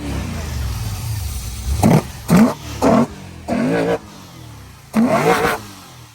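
A car engine at a drift event revs hard to redline in five short bursts, each rising sharply then cutting off, with a steady idle rumble between them.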